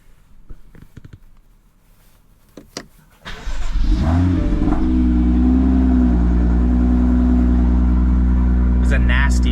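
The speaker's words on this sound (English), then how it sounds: "The final startup of the M2." A 2018 BMW M2 cranks and fires up after a few clicks and scuffs, then settles into a loud, close, steady idle with a brief rev. Voices are heard in the background.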